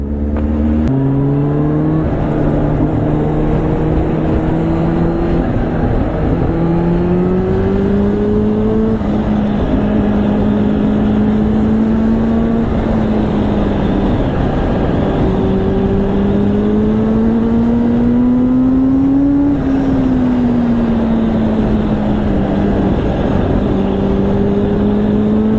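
Kawasaki Ninja H2 superbike engine heard while riding, a loud continuous drone that rises and falls through gear changes, with steady wind rush and no voices.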